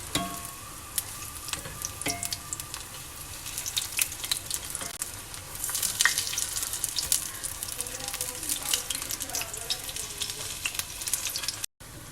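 Spinach, onion and potato pakoras fry in hot oil with a continuous crackling sizzle, swelling louder midway as the fritters are flipped with a slotted spoon.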